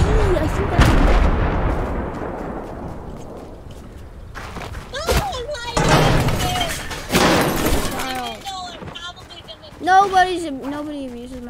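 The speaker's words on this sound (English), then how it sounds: "I hear shooting." Fortnite gunfire and explosive blasts ring out with sharp cracks and rumbling bursts, some close and loud, others further off, mixed with voices talking over the action.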